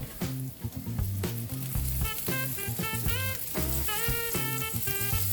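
Breaded shrimp sizzle and crackle loudly in a hot frying pan, a dense, continuous frying hiss heard up close.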